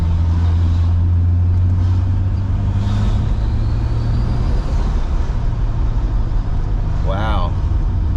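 A turbocharged BMW 733i E23 engine hums under boost while driving, a steady loud low drone with a rising turbo whine midway and a brief chirp near the end, heard from inside the car.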